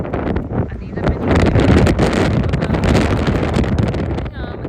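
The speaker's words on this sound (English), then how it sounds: "We've got a big gust." Strong outdoor wind gusts batter the microphone with loud, rumbling buffeting that swells and surges throughout, and the roar is broad and continuous.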